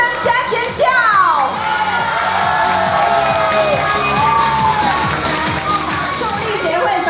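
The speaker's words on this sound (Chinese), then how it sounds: "掌声加尖叫。" Loud, continuous crowd cheering and shrill screams from an audience at a sisterhood association summit as a president makes her entrance, with whoops over a dense roar and a sweeping tonal sound running through it.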